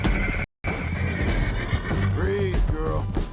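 A horse neighs and whinnies in Red Dead Redemption 2 during a chaotic chase, the call rising near the end over hoofbeats, shouting and busy game noise.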